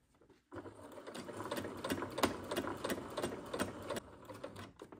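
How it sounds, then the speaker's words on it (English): A sewing machine stitches an invisible zipper, running in a steady, close whirring burst for about three and a half seconds, with brief changes in pace as it stitches and backstitches. No one speaks. "So just stitch and then back stitch."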